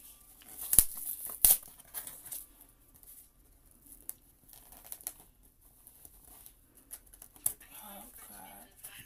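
A tea package is torn open by hand without scissors, giving two sharp rips early on and then scattered faint crinkles and rustles, quiet and close, with a little talk in between.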